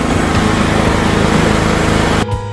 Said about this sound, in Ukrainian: Запустили генератор, слава Богу, працює.